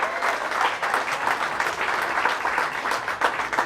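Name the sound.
audience applause for Lenny Clark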